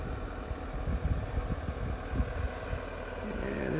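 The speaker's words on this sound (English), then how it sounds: "And there's the tractor." A tractor engine runs steadily at a moderate distance beside a wood-mulching site with large tree stumps, a low rumbling drone with uneven knocks, no voices over it.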